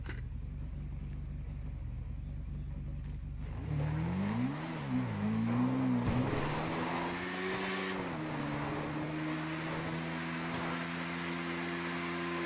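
Simulated motorcycle engine in GTA V, a revving tone that rises and dips before settling into a steady cruising drone, moderately loud, with no talk.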